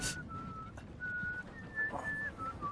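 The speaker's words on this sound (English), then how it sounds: "I hear whistling." A character whistles a tune in the Game of Thrones video game, a thin wavering melody carried by several sustained notes over low ambient background noise throughout.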